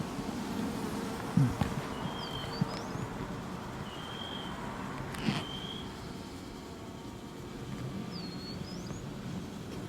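Honey bees buzzing on the comb, a dense continuous hum close by, with a few sharper individual buzzes passing near and faint bird chirps in the background.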